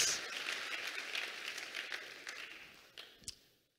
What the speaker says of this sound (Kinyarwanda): Reka dukomere Imana yacu amashyi